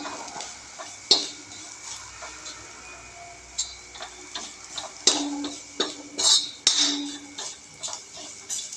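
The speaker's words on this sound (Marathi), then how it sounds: "तर इथे आपण 5 मिनिटं चांगला मसाला भाजून घेऊया" Dry spice masala with red chilli powder roasting in oil in a pan for an amtee of moth bean dal, heard as scattered spoon scrapes and clinks against the pan over a faint steady hiss.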